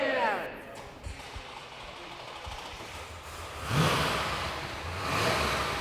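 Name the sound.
drag racing car engine starting and revving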